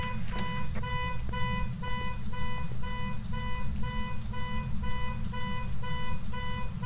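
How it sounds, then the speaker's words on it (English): An alarm beeps in a steady repeating pattern of short tonal pulses over a loud low rumble, continuing throughout without talk. "How do we turn the alarm off?"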